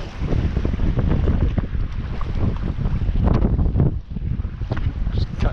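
Wind gusting across a microphone on a fishing boat on open water while casting for pike and walleye, a steady loud rumble with buffeting bursts throughout.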